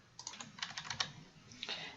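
A short burst of typing on a computer keyboard, entering a name: quick, light key clicks in two small clusters, close and fairly quiet, with no one talking.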